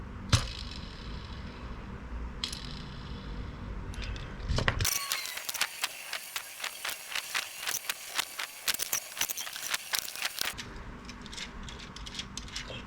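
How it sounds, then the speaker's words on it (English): Rollers being screwed onto a Tamiya Noobcrasher RC car make a dense run of rapid, close mechanical clicks and ratcheting ticks lasting several seconds, framed by quieter handling and rustling before and after. "screw in the rollers, make sure they're able to spin"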